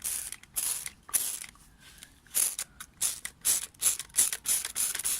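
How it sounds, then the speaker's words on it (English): A spray bottle fires a quick series of short, hissing squirts while washing pots, some spaced out and others in a rapid run, close and fairly quiet. "You just get your spray bottle. I just spray."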